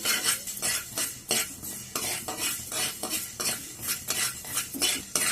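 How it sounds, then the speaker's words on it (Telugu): Fenugreek seeds with mustard seeds being stirred in a pan while frying, a spoon scraping and clinking against the metal in a steady repeated rhythm, close and fairly loud with no talk. "1/2 టీ స్పూన్ మెంతులు, ఇవి కొంచెం ఫ్రై చేసుకుందాం మంచి స్మెల్ వచ్చే వరకు"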